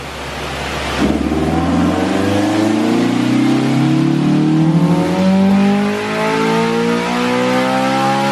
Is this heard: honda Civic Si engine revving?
yes